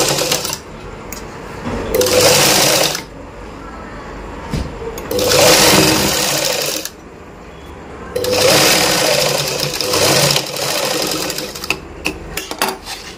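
Sewing machine running a straight stitch along a blouse seam, several loud whirring runs of two to three seconds each separated by short pauses, close up with no talking.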